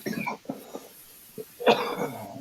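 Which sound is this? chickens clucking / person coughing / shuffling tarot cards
person coughing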